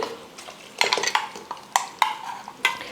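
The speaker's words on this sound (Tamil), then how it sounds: "இப்போ அரைச்சி எடுத்து வச்சுருக்கிற அந்த விழுதை வந்து சேர்த்துக்க போகிறேன்." Ground masala paste goes into sautéed mutton in a pan for mutton kuzhambu, with a spoon knocking and scraping the pan in sharp irregular clacks over a soft sizzle.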